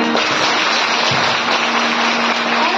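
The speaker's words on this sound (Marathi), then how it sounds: "म्हणून जोरात टाळी वाजवा." Loud, steady applause from a crowd at a kirtan gathering, dense and continuous clapping from start to finish with no break.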